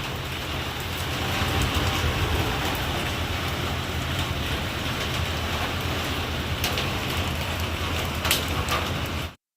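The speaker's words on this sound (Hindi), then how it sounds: "देखो मेरी खाट भीग रही है बारिश में।" Steady rain falls in a constant hiss, with occasional louder patters of drops striking a surface nearby, including a woven cot getting soaked.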